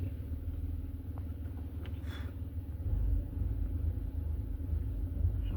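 A manual car's engine rumbles steadily at low pitch while moving off in first gear, heard from inside the cabin, with the drone growing slightly louder and rougher partway through as the clutch engages.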